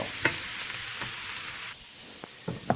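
Food sizzles steadily in a frying pan during a home recipe, a close broadband hiss broken by a few soft knocks and scrapes of stirring, with the sizzle dropping abruptly partway through.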